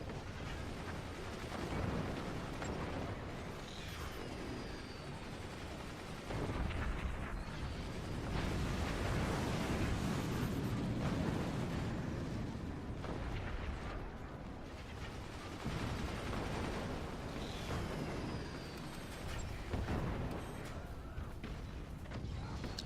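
Weapons fire and explosions in the video game Forts, including shotgun, machine gunners and mortars, form a dense, continuous rumble of blasts and bursts that swells and dips throughout, with no clear voices.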